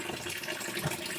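Water trickles slowly into a pan holding live crayfish, a soft, quiet, steady pouring sound with no voices.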